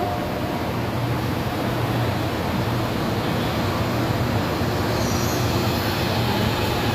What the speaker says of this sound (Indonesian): Oh, ini di MRT ya.